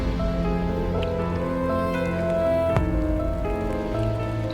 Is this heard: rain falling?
yes